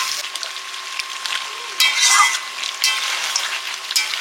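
Chicken with potatoes and green chilies is stir-fried in a pan, giving a close, steady sizzle with occasional louder bursts of frying and scraping as it is stirred.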